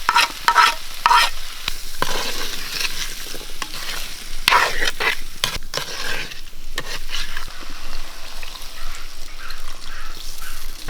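Tomatoes being mixed and stir-fried in a pan for a Kerala-style soya chunk curry: steady close sizzling with repeated scraping stirs, loud and continuous without talk.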